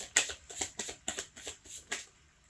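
Mystery cards are shuffled during a card reading, giving about eight quick, rhythmic riffling snaps that sound close and fairly quiet.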